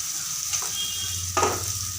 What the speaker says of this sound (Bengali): কড়াইয়ের মধ্যে দিয়ে দিচ্ছি পেঁয়াজ আর রসুন কুচি দিয়ে ভালোভাবে নাড়াচাড়া করে দিলাম